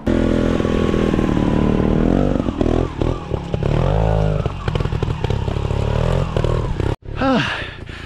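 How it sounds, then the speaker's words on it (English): A trials motorbike engine revs and labors up close, pitch rising and falling with bursts of throttle, then a brief cutoff and a sharp whining rev. "Now, we've got Senna on the trials bike, testing out the motorbike mount."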